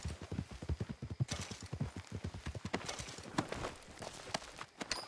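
Horse hooves clip-clop in a quick, steady rhythm in Red Dead Redemption 2, loud and close at first, then thinning out as the steps slow.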